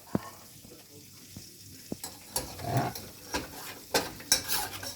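A spoon stirring macaroni cheese sauce with butter in a pot, giving soft wet swishes and a few sharp clinks against the pot, close by, with brief speech in between.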